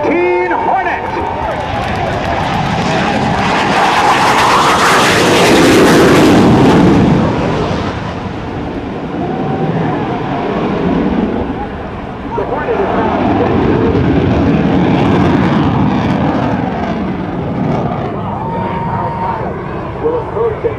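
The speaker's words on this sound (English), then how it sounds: "from Naval Air Station Oceana, your United States Navy's A-18C Hornet" A US Navy F/A-18C Hornet fighter jet from Naval Air Station Oceana roars past at a Rhode Island Air National Guard airshow, a loud sustained jet rumble swelling and fading in two passes as an announcer talks over it.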